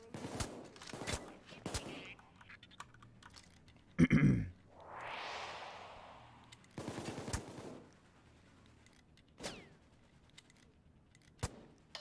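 Sharp gunshots and bursts of gunfire in the heist game Payday 2, loud scattered cracks with quieter gaps between them and one longer burst of noise midway.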